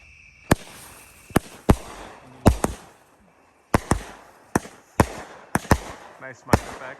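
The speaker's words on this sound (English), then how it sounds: "next up we got Booty Chaser by Texas Outlaw. Shoots flaming balls." A Texas Outlaw Booty Chaser consumer firework shoots flaming balls with a series of loud, sharp bangs at irregular intervals, each followed by crackling, and one brief quiet gap partway through.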